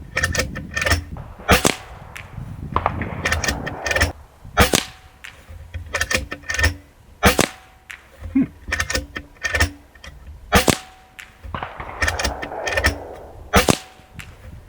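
A shotgun firing slugs outdoors, about a dozen sharp loud cracks spaced a second or so apart, each with a short echoing tail and quiet gaps between.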